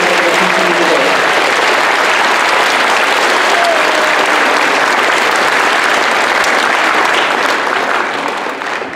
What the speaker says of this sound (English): Let's give them a round of applause for all the work that they've done